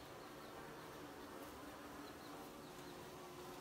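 A steady, faint drone of bees nesting inside the walls of a house, continuous and even throughout with no voices.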